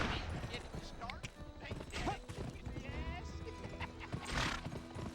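A horse neighs loudly while its hooves clip-clop in a quick, uneven galloping rhythm close by, with people talking over the sounds.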